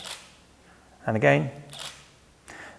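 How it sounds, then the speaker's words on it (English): Shutter of a Nikon D5200 camera firing, a couple of short mechanical clicks close to the microphone, with someone briefly speaking. "The shutter is this noise you hear."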